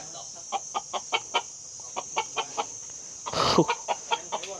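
Wild jungle fowl in a Thai village clucking in a steady series of short, evenly spaced calls, close by, with a louder rustling burst partway through and a constant high insect drone behind.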